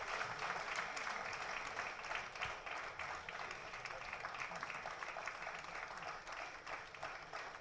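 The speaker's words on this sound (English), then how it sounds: "I think this round of applause is very essential." Continuous crowd applause fills a diploma convocation hall, a thick, steady patter of many hands clapping at a moderate distance, unbroken for several seconds.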